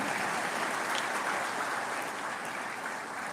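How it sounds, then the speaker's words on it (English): Audience applause at a university graduation session, a dense, sustained crowd clapping at steady loudness throughout, with no voices over it. "Yes, you could clap a little more."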